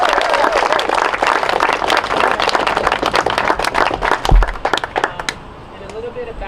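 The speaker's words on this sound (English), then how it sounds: "I want to give a round of applause to HouseGiveaway.org" A round of applause from a crowd at a house giveaway ribbon cutting in Columbus, dense steady clapping that thins out and fades near the end.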